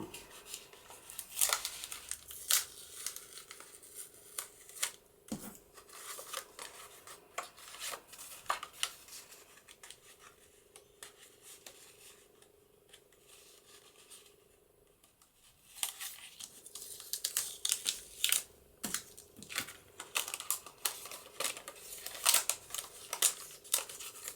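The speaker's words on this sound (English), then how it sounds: "Now I'm going to take this to my Big Shot and I'm going to cut this out." A Big Shot die-cutting machine cuts out a papercraft journaling card, giving a steady mechanical grinding and rasping with scattered crinkles and clicks. A quieter pause falls midway before the close cranking noise resumes.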